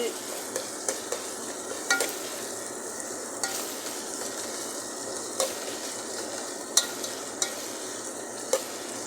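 Ginger and garlic sauté in a pan with turmeric, a steady close sizzle punctuated by regular sharp taps and scrapes of a spoon against the pan.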